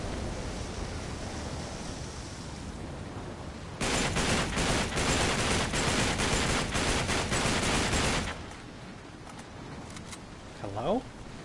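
Shotgun fire in the Uncharted 3 video game sounds as a burst of rapid, loud blasts over a constant wash of noise. A voice briefly rises near the end.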